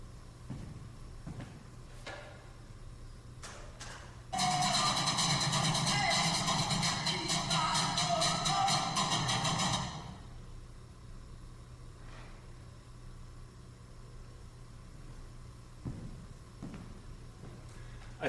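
Trash cans played as percussion, a dense, loud burst of rapid metallic banging lasting about five seconds, set against quieter room noise before and after.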